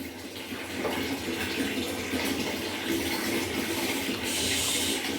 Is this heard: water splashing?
yes